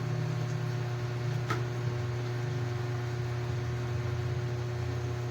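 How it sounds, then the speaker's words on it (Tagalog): Constant mechanical whir and hum of an electric fan running steadily throughout, fairly loud and unchanging, with a faint click partway. "medyo maingay po yung ating electric fan."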